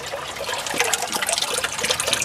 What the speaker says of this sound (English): The siphon's just kicked into play.